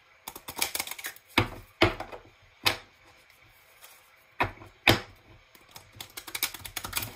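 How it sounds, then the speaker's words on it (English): Tarot cards being shuffled by hand in a reading setting, a fast papery riffle with sharp slaps as the deck is bridged and squared, several bursts separated by brief pauses, close and fairly quiet. "Can I like shuffle like a normal person?"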